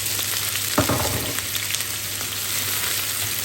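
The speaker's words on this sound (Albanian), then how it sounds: "Pasi që është nxehur vaji, hedhim qip." Chickpeas dropped into hot oil, a steady close sizzle and crackle with a brief clatter as they go into the pan.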